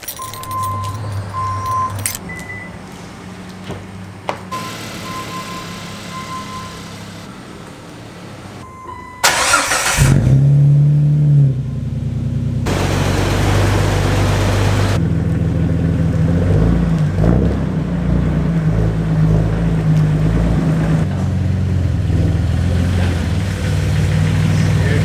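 A Jeep Wrangler TJ engine cranks and catches after faint jangling and handling noises, then settles into a loud, steady idle that runs for the rest of the clip.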